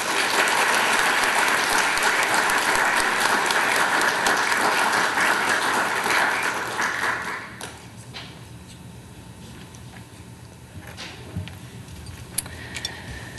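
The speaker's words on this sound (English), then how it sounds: "let's give a warm applause to Diane Heckman" A dense burst of audience applause at an awards ceremony honoring community service fills the first half, then tapers off into a quieter room with a few scattered claps and small knocks.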